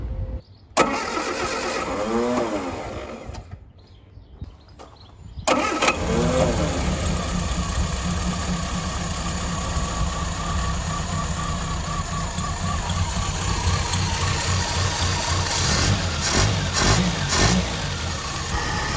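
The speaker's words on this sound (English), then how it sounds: "Let's give it a start and just make sure all of that is okay before I move on to the next step." A Mk1 Ford Fiesta 1.1L engine, freshly fitted with new spark plugs, cranks briefly, stops, then cranks again and catches, settling into a steady running idle with slight revs nearby.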